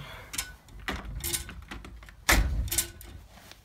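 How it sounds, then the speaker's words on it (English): An indoor door is closed with a series of soft knocks and clicks, followed by one louder thud and a couple of lighter taps, all quiet and close. "and close the door."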